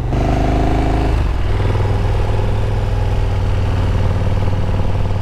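A 2018 KTM Super Duke GT motorcycle is ridden at an easy pace, its engine a loud, continuous close-up drone that shifts tone once near the start and then holds steady, with no voices.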